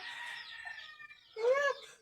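A chicken clucks and squawks close by, a drawn-out call followed by a louder, higher burst near the end, with no talking.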